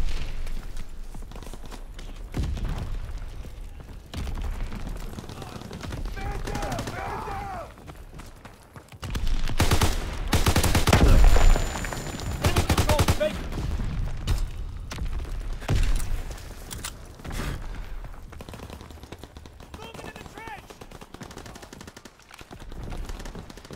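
Gunfire in the Call of Duty: WWII multiplayer video game, scattered shots building to a loud sustained burst of rapid automatic fire, with thuds and other battle sounds around it.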